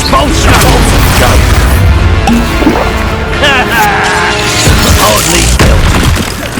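Spell explosions from Expulso and Confringo in the Hogwarts Legacy video game boom and crash loudly and close over and over, mixed with whooshing magic effects and constant dense combat noise.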